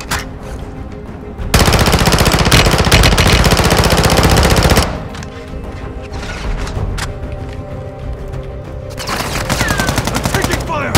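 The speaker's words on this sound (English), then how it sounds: "I'm taking fire!" Gunfire in a Call of Duty battle royale match on Ashika Island, with sustained loud automatic bursts, long continuous rattling volleys alternating with shorter rapid fire, close and dense throughout.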